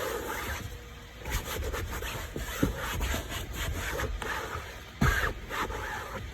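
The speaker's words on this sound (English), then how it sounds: "another clean microfiber towel just to wipe that surface down" A clean microfiber towel wiping down a stained car seat surface after cleaning without a shampoo machine, a steady close rubbing and scrubbing sound with a couple of sharper knocks along the way.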